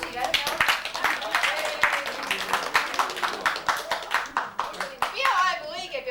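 Audience clapping at an Estonian village ceremony, a steady stream of hand claps with cheerful voices and a child's speech mixed in throughout.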